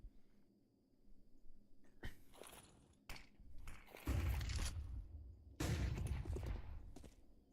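Short bursts of rifle gunfire in the Counter-Strike video game, several sharp loud volleys spaced over a few seconds with quieter gaps and soft movement between them, no talk over the shots.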